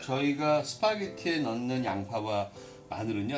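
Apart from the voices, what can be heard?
No distinct noise like a dog, phone or traffic.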